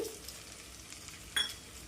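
Dried red chillies and chopped onions with green chillies fry in hot oil, giving a close, even sizzle with one brief sharper hiss and clink partway through.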